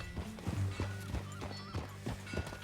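Rhythmic hoof clip-clops from a walking horse in Red Dead Redemption 2, steady and fairly close, with a low snort or whinny mixed in and game music tones behind.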